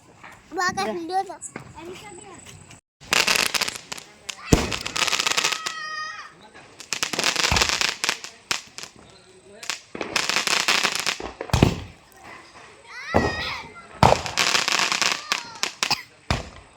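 Diwali firecrackers burst repeatedly in loud, crackling volleys, with people talking between the bangs and a whistling sound among them.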